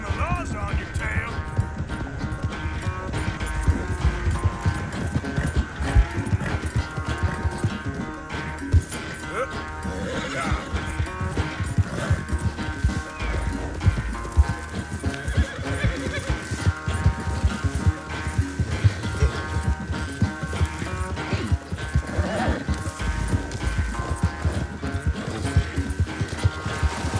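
Horses in the Red Dead Redemption 2 video game, continuous hoofbeats and snorting under a dense, busy game soundscape with music, steady and loud throughout.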